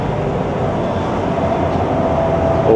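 A Beijing-Shanghai high-speed train runs, heard from inside the carriage as a loud, steady rumbling roar with faint rail hum and no talk.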